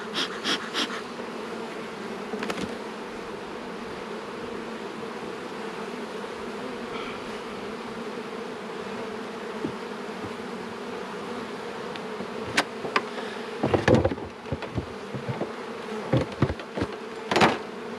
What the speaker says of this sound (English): Good hive of bees, good hive of bees